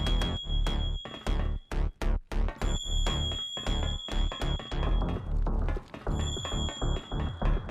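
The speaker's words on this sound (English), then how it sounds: "whenever the game is trying to get you to go somewhere and do something like speak to someone, you are met with this obnoxious noise" An insistent objective prompt tone from the co-op video game Pizza Bandit, a steady high electronic beep sustained in stretches over busy game music and effects, loud and repeated with short breaks.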